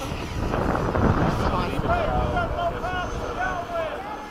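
A Freewing 90mm F-15 RC jet makes a low pass at a flying field, a broad rushing roar that peaks early and then fades slowly, with voices talking over it.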